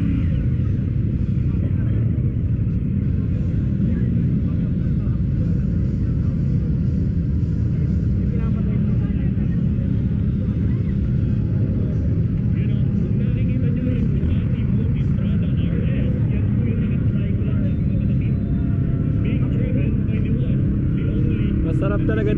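A CFMOTO CFORCE 450 4x4 ATV engine drones steadily and loudly while riding on muddy ground, a continuous low rumble lasting throughout, with people talking over it.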